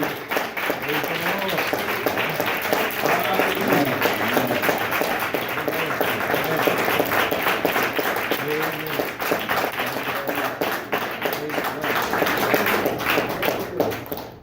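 Sustained audience applause from a crowd at a talk, many hands clapping in a dense, steady wash that holds at an even level throughout, with a voice speaking faintly underneath.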